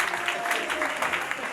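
An audience at a wedding gives a short burst of dense applause, with mixed voices and cheers under it.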